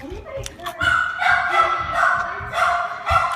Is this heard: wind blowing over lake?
no